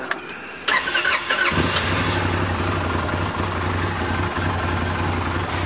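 A 2015 Arctic Cat Wildcat EPS V-twin engine cranks briefly, fires up and settles into a steady, close idle with a low, even throb.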